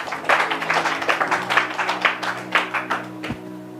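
A church congregation claps and applauds in praise of Jesus, a dense, steady patter of many hands with a few voices mixed in, loud and close throughout.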